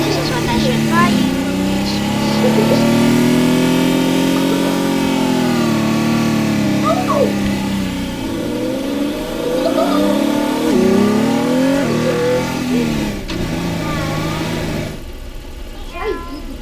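A car engine in the Teardown video game holds a loud, sustained rev that rises and falls in pitch, then drops off and flutters near the end, with a voice talking over it.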